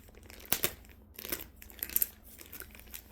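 Plastic bags being handled and pulled at while someone struggles to open them, giving bursts of close crinkling and crackling with sharp rustles, quieter pauses between them.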